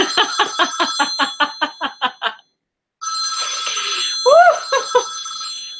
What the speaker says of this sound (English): Did you turn the ringer up, God?